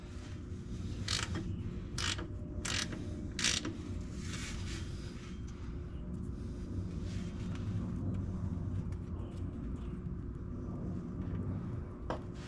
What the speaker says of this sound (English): So let's start by removing our fill plug. It's just a 3/8 drive.